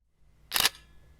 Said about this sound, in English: we should be able to take a picture